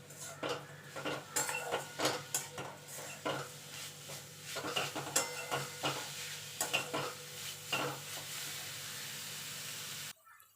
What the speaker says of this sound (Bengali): এবার এটাকে আমি নেড়ে দুধটা গলিয়ে নেব।